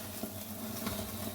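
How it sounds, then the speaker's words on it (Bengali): Chicken tikka searing on a stove gives off a faint, soft sizzle with light stirring scrapes, brief and quiet, with no voices. "এবার আমি কিছুটা সেঁকে নিচ্ছি যাতে পারফেক্ট মাংসগুলো সেদ্ধ হয়ে যায়।"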